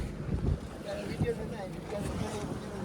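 A Kerala fishing boat draws up to another boat at sea, its low engine rumble mixed with wind buffeting and water noise, fairly close and steady, with faint voices in the background.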